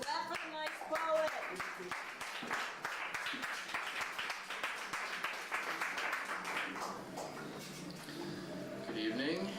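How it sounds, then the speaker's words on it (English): Audience applause for a poet at a spoken-word evening in a small bar, a steady spread of many hands clapping throughout with voices murmuring underneath. "Clap for the nice poet."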